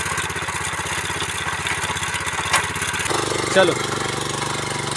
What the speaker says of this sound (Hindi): तो चालू हो गई जी हमारी पावर टिलर।